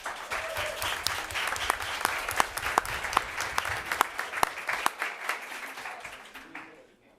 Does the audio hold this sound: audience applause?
yes